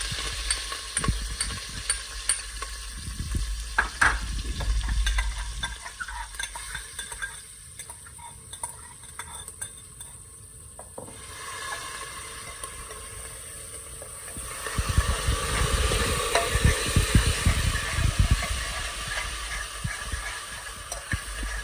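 Whole spices tempering in hot oil for a Gujarati dal dhokli, giving a steady sizzle with clattering stirring and scraping of a pan; the sizzle swells louder near the end, with no talking.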